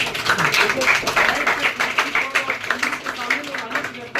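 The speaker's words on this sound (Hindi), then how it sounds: "तालियां बजाइए भैया आप लोग" Audience applause at a police station event where a schoolgirl serves as acting station officer for a day, a steady patter of many hands clapping with voices talking over it.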